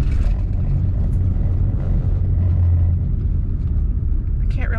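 Steady, loud tyre and road rumble inside a moving car on rough, noisy roads at modest speed, a continuous low drone filling the whole stretch with talk over it.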